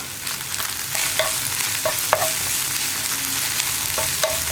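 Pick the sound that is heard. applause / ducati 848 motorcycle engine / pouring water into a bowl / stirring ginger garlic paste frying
stirring ginger garlic paste frying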